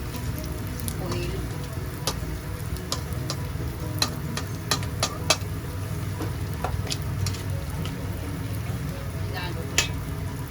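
Tuna and rice mixture being stirred in a frying pan with oil, a steady sizzle under scattered clicks and scrapes of the utensil, close and continuous.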